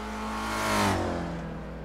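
A Ford race car in a racing video game screams at full throttle, its engine note climbing steadily, peaking loud around the middle and then easing slightly as it holds a high, sustained whine alone.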